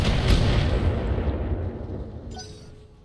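Mech weapons fire on a target in the BattleTech video game: a loud, booming broadband burst at the start that rumbles and slowly decays over about three seconds.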